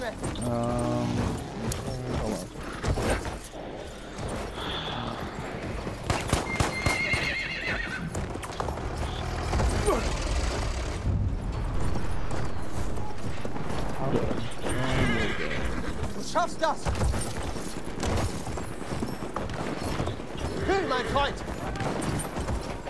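A horse gallops with rapid clip-clop hoofbeats and gives several loud neighs in a video game, mixed with game noise and occasional distant gunfire, a voice talking over much of it.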